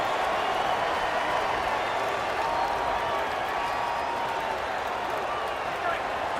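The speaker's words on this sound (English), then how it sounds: "This crowd bringing the energy and noise early." A large stadium crowd at an Oklahoma State at Texas football game roars continuously in a dense, sustained wash of cheering and noise, with a voice talking over it.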